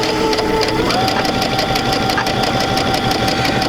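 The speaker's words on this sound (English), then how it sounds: "I can go ahead and sew this." A sewing machine stitches a quarter-inch seam on a quilt block, sounding as a loud, close, continuous rapid mechanical whir with a steady needle rhythm throughout.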